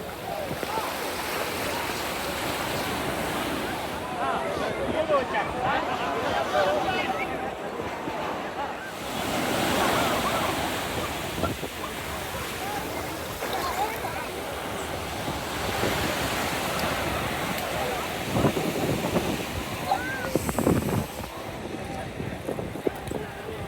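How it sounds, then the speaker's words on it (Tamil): Sea waves roll onto the shore beside the Tiruchendur Murugan temple in Tamil Nadu, a loud continuous surf wash with surges and gusts of wind buffeting the microphone, with faint voices mixed in. "இப்போ வந்து நான் கடல் பக்கம் வந்துட்டேன்."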